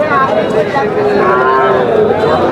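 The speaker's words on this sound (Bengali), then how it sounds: "এই পাশেও কিন্তু একটি ষাঁড় বাছুর" A bull calf at a busy cattle market moos loudly and close by in one long, drawn-out call that fills the whole moment, with the noise of the crowd underneath.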